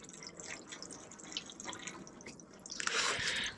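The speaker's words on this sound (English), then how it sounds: "my pipe has a leak in it" Water dripping from a leaking pipe onto a sidewalk outdoors, with scattered light drips and a faint trickle, quiet and near, building into a brief steadier splash at the end.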